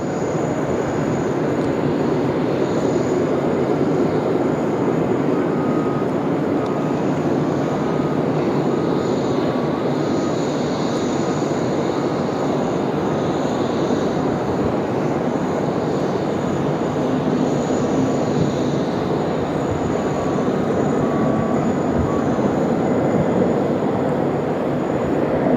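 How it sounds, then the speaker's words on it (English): Singapore Airlines Airbus A350 on final approach to runway 16 right at Sydney Airport, a steady broad jet engine roar with a faint high whine, constant and fairly loud throughout, no talk. "Here's our Singapore A350 looking very glamorous there on finals here for runway 16 right."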